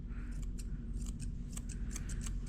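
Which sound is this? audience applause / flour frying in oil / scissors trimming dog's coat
scissors trimming dog's coat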